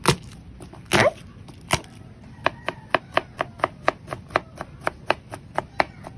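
Garlic is chopped with a knife on a cutting board: a few heavy thuds at first, then a steady run of sharp, evenly spaced knocks, close and clear with no talking.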